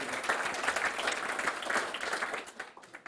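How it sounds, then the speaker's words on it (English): An audience at a startup pitch competition final gives sustained applause for the startup Green Boom, a dense, even wash of many hands clapping that thins out toward the end. "Big applause for Green Boom."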